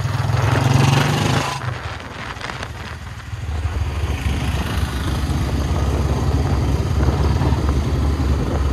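A motorcycle fitted with a loud silencer revs hard with a deep throbbing burst, dips briefly, then settles into a steady, loud, rumbling idle close by.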